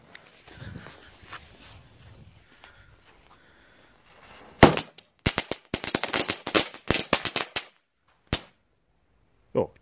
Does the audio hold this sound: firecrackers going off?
yes